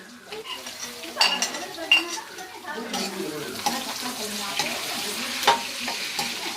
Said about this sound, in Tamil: இப்போ எல்லாமே ஒன்றா சேர்த்து வதக்கணும்